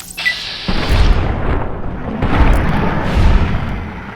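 A heavy-recoil weapon firing in Fallout New Vegas, several loud booming shots in quick succession, each a thick, rumbling blast rolling into the next, close and forceful, with no talk.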